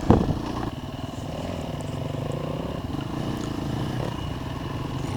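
A dirt bike on a trail lap in Ardmore/Brookby, its engine droning steadily and close, rising slightly as it climbs, with a bump at the start.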